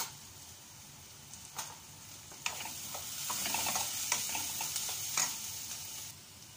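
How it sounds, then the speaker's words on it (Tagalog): Onion and cumin sizzle softly in a frying pan, with a spoon scraping and clicking now and then through a steady hiss. "mag-fry muna ng jeera tapos olga masala. So dito na lang ako mag-fry"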